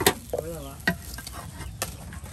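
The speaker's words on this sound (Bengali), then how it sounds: "কতগুলো এই যে ভুট্টা দানা একদম ভেজে নেওয়া হলো" Corn kernels fry into popcorn in a pan in a village kitchen, giving sharp scattered pops and crackles over a low sizzle and some stirring.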